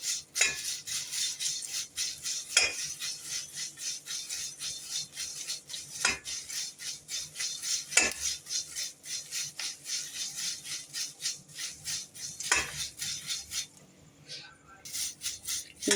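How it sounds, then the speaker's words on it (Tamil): Dried avarampoo flowers dry roasting in a pan on a stove, a steady dry scratchy rustle and scraping as they are stirred, with sharper clinks of a utensil against the pan every few seconds. "அங்கங்கே போகாமல் பக்கத்துலேயே இருந்து வறுத்தா சீக்கிரம் வறுபட்டுரும்"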